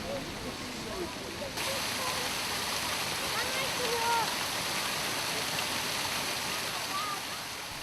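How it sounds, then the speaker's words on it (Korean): Water pouring and splashing steadily from the Neptune Fountain in a Berlin square, a continuous broad rush heard from nearby, with no voices. "로마 신화 바다의 신 넵튠을 형상화한 이 분수에서 나오는 시원한 물줄기는 광장에 활기를 불어넣고 있다"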